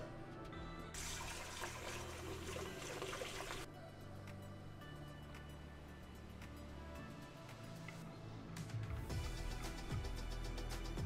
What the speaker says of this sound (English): And then also I need to mix more coolant.